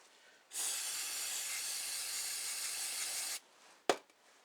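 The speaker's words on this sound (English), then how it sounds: "Spray it off a little bit." A long continuous spray of cleaner onto a Tecumseh diaphragm carburetor hisses for about three seconds, then stops; a sharp tap follows shortly after.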